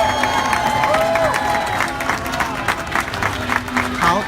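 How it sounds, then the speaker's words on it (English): An audience at the Miss Universe 2017 national costume show applauds and cheers Myanmar's entry, a dense continuous clapping with crowd shouts and whistles, loud and sustained. "Let's give that one another round of applause."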